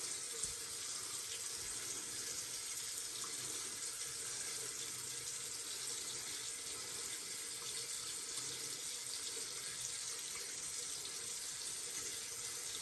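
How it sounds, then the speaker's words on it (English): Water runs steadily from a bathroom tap into a sink during a wet shave, a constant close hiss lasting the whole stretch with no talking. "Sorry about the running water."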